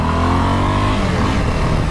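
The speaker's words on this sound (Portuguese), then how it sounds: "Deixa esse carro entrar logo aqui." A motor vehicle engine pulls in close by on a street, a loud steady mid-pitched drone that shifts slightly as it moves, heard alone with no talk.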